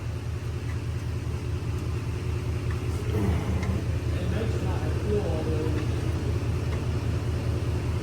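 A Chevrolet Squarebody truck engine idles with a low, steady rumble that holds constant throughout, close by, while a person talks quietly over it.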